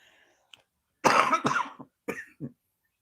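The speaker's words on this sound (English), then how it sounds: "The coughing fits are just kind of going to happen periodically." A burst of several harsh coughs close by, clustered together, then two smaller coughs after a short pause, in otherwise quiet surroundings.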